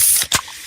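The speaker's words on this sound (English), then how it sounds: "that's the sound of a freshly opened fizz-filled Pepsi." A fizzy Pepsi cola can popping open, a short sharp crack followed by a brief hiss of escaping carbonation, close and fairly loud, with no talking.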